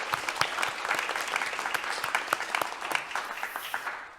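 A church congregation at an afternoon worship service claps together, a dense, steady burst of applause lasting several seconds before tapering off at the end.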